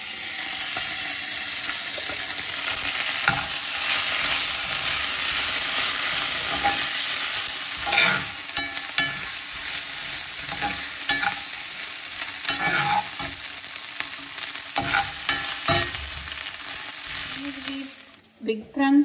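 Onions with ginger garlic paste frying in a pan for a prawn fry, a steady close sizzle broken by repeated scraping stirs of a spatula throughout, with no talk.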